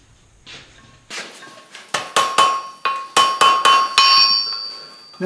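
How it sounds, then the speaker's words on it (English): A hammer strikes forge-welded chain on the horn of an anvil with a series of about ten sharp, ringing metallic blows at a steady rhythm, loud and close, each leaving a brief bell-like ring. "we're going to start dressing it on the horn of that anvil"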